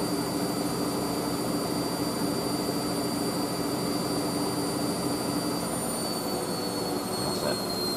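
A Hoover AAA Whisper 1600 washing machine spins at high speed on a 50°C speed wash, producing a loud, constant whine and rushing drone with a steady high-pitched tone throughout.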